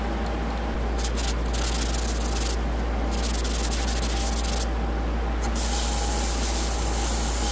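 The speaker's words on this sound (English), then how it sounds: "I'm going to go ahead and Yorkshire grit it first" Yorkshire grit abrasive paste is rubbed onto a wooden platter spinning on a wood lathe, giving a steady, loud, close hissing friction that swells and eases slightly with the pressure of the cloth, with no talking.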